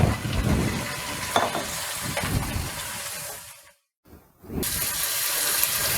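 Mutton pieces frying in hot oil with garlic and ginger paste for a layered biryani, a loud steady sizzle with stirring, briefly cut to silence near the middle before the sizzling resumes.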